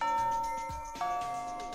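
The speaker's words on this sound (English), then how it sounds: "Shit, the bell!" A school bell rings in the video game Fate/Extra CCC: a clear, sustained chime that sounds, fades, then strikes again about a second later with a brighter ringing tone.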